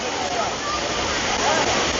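Waterfall rushing on a hike in Papua New Guinea, a dense steady hiss of falling water, loud and unbroken for its brief duration.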